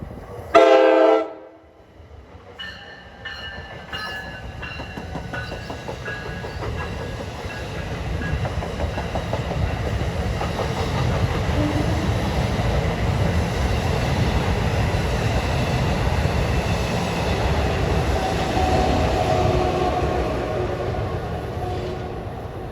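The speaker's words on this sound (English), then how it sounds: "at track 1 we have a New York bound transit" A New York bound NJ Transit train at a New Jersey station sounds a short horn blast, then rumbles past with steady clickety-clack wheel noise that builds loud and holds for many seconds.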